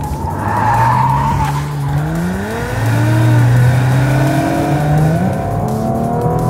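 A V6 Audi RS4 Avant engine revs and drops through gear changes while cornering, pitch sweeping up and down, with tire squeal and road noise; loud and steady throughout.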